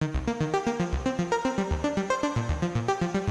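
Doubled sawtooth synth layers, one running through a drive pedal, play a fast, steady pulsing pattern of short plucked notes shaped by a filter envelope, bright and gritty, loud and alone.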